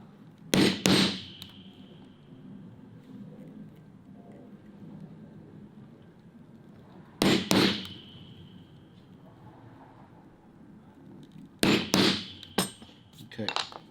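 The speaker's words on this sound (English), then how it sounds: "Now I'll use the same hole punch to punch those out. Hit that a little harder." A metal hole punch struck with a hammer to cut holes through leather for a backpack: sharp ringing blows in quick pairs and clusters, separated by long quiet gaps, close by.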